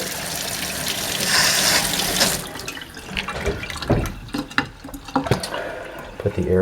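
Water streams from a newly installed Moen kitchen faucet with the aerator removed, a steady rushing flow for a couple of seconds that then gives way to dripping, splashing and handling noises in the sink.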